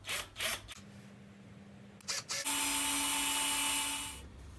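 A power drill bores into a heavy metal case, giving a couple of short bursts followed by a sustained high whine that winds down at the end, with a few quiet knocks before it.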